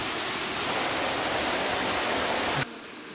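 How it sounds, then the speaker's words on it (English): A large waterfall on a trail up a North African mountain, roaring as a dense, steady rush of water close by that cuts off abruptly near the end, with no voices. "We even saw another waterfall, way bigger than the one before."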